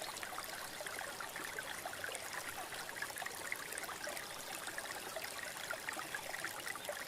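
Water of a river stream flows in an unbroken, even rush, near and constant from start to finish, with nothing else audible.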